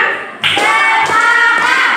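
A classroom of students claps in unison, a few loud sharp claps about half a second apart, close and roomy, with voices around them.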